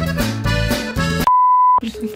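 A single steady phone tone sounds for about half a second, loud and clean, right after a burst of chatter and just before talking resumes.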